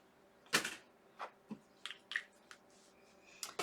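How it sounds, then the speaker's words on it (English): Several sharp, close squirts of distilled water from a spray or squeeze bottle into dried-out chalk paste, irregularly spaced and quiet, with small wet clicks between them. "I'm gonna put like 4 squirts of distilled water in this because this chalk paste is dried a little bit."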